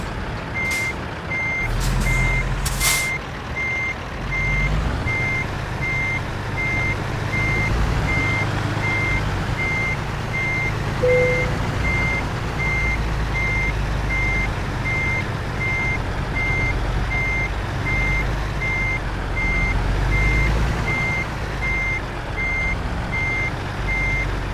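Truck reversing alarm in American Truck Simulator, a steady repeating electronic beep over a constant loud diesel engine drone, with a couple of brief air-brake hisses at the start.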